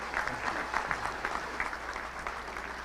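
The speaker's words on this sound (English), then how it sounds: "That is the first time I've ever got applause for a prayer" A small crowd at a Little Rock Touchdown Club luncheon gives brief, steady applause after a weekly prayer, moderately near and with no talk over it.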